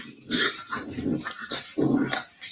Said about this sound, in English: It's like a blue Shar-Pei or something.